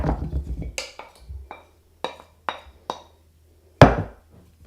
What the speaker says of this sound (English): take the butter in a bowl and give it a really good strong mix until it's soft and creamy